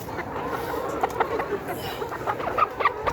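Sixteen-week-old layer pullets cluck in short, scattered calls against steady farm background noise, fairly close, with a few sharper clucks toward the end.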